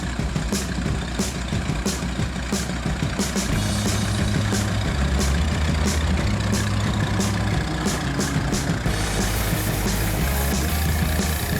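A Fordson Putilovets tractor engine runs while driving, a loud, steady low rumble with a throbbing mechanical drone, heard close and unbroken from start to finish.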